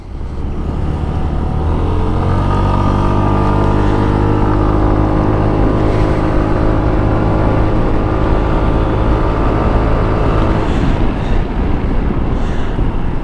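A motorcycle engine labours loudly up a hill in a steady, close drone, its pitch shifting gradually as it climbs and easing slightly near the end, with no talking.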